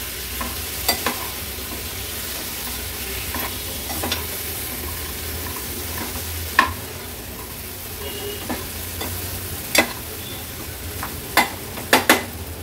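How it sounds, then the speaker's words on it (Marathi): Vegetables sauté in masala in a pan for a Maharashtrian thali, with a steady close sizzle broken by sharp clinks of a spatula stirring against the pan. "भाजी थोडीशी मसाल्यात परतून घेते।"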